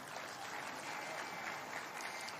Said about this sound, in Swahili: Simameni wote jameni. Pigeni hawa makofi jameni.